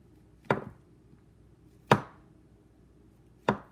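A knife slices through mushrooms onto a cutting board in three separate, evenly spaced thuds, close and clear with no talking.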